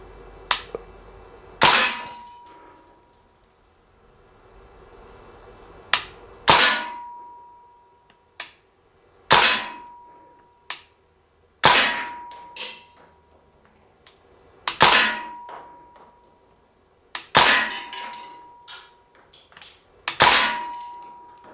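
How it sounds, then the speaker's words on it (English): A Crosman Bushmaster MPW CO2 blowback BB gun fires single semi-auto shots outdoors, about eight sharp cracks spaced a couple of seconds apart, each followed by a ringing metallic clang from the BBs striking a steel target. "We're going to shoot a few, and if I don't hear it hitting right, I'll check it out."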